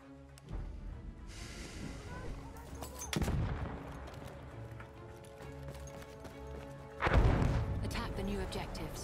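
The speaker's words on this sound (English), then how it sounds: "Wait for the enemy artillery." Artillery fire in the World War I shooter Battlefield 1: heavy booming blasts land amid ongoing gunfire and battlefield noise, with in-game voices heard over the combat.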